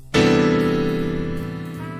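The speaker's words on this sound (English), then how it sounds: "The major 13th chord sounds like this." A major 13th chord struck on a keyboard, a sudden bright stack of sustained tones that rings on and slowly fades, alone and close.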